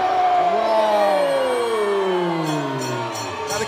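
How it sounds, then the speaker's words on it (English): Crowd noise in an arena after a women's bantamweight MMA fight, a loud sustained roar with falling tonal swells that could be booing, steady for several seconds before easing slightly. "Now the crowd's booing."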